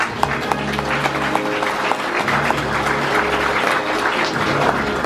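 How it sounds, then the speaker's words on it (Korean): Guests at a New Year's gathering of a foundation applaud senior advisers and elders, a steady round of many hands clapping under a low sustained hum, with no one speaking. "함께 모두 박수로 인사나"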